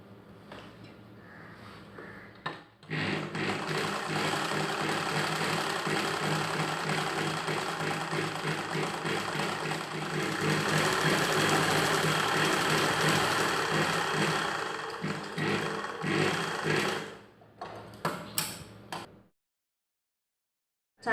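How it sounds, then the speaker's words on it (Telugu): A sewing machine double-stitches a child's silk pattu pavadai (pattu langa), running in a steady, continuous mechanical whir for most of the span, then stopping with a few short stitches near the end. "దీనిని డబుల్ స్టిచ్ చేసుకోవాలి."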